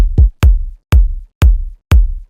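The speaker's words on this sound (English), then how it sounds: "I have two layers of my kick." Layered kick drum from a dark progressive house track made in Ableton, five punchy, loud thumps with a bright top-end click and deep booming tail, evenly spaced about half a second apart.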